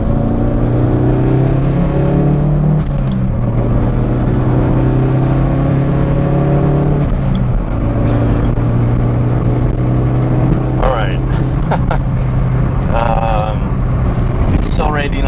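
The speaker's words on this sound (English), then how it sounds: "Accelerating onto the freeway is one of the few opportunities there are to really legally do that kind of thing." A car accelerates hard up a freeway on-ramp, its engine note climbing steadily and loud from start to finish, with a voice talking over the rising drone.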